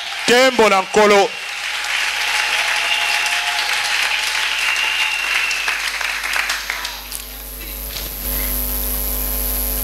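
A church congregation applauding, a steady wash of clapping that holds for several seconds before thinning out, with a brief voice at the start and an electrical hum beneath that grows louder toward the end.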